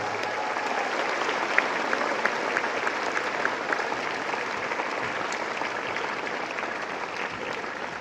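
A convocation audience at a university graduation ceremony applauds parents and families, a broad, sustained rush of many hands clapping at an even level for several seconds, somewhat distant in a large hall.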